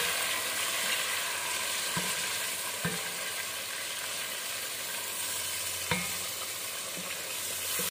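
Chicken biryani masala fries steadily in a pot over medium heat, giving a loud, continuous broad sizzle, with a few soft knocks of a spoon now and then.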